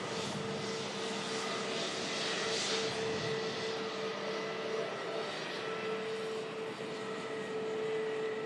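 A jet airliner is heard at Manchester Airport as a steady, moderately distant engine roar with a sustained whine holding constant across the whole stretch, with no talking.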